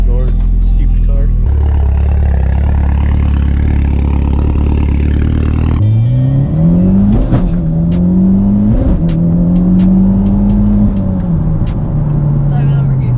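A Subaru STI engine runs under full throttle, rising in pitch through repeated pulls and gear changes, loud and close. People talk over it in the first half.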